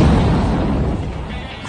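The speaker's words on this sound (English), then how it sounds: "I'm going to light up the first firework." A loud firework bursts at a Fourth of July gathering, then a rumbling boom fades away over a second and a half.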